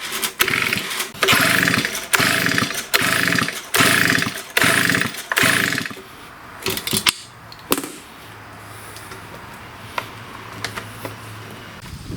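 A STIHL BG56 leaf blower engine being pull-started with its spark plug out, heard as a series of about eight rhythmic rasping cord pulls up close, followed by quieter handling noises and a faint hum.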